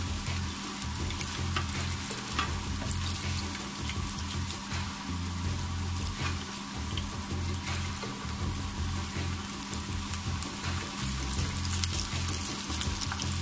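Cheese samosas deep frying in oil over a medium flame, an even, crackling sizzle with scattered pops like light rain, continuous and close with no speech.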